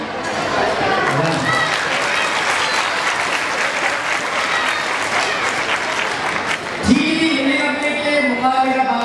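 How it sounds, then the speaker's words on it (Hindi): Audience applause at a Teachers Day children's expo in Karachi, a steady roar of clapping hands for most of the stretch, with someone speaking over it and his voice carrying alone toward the end. "तालियां।"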